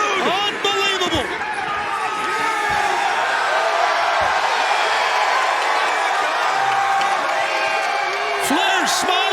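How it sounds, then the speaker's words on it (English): Wrestling arena crowd at an AEW Dynamite show erupting in wild cheers and whoops, a loud sustained roar with a commentator talking over it. "And listen to this crowd, it has come unglued."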